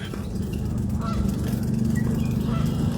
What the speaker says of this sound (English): And they're geese.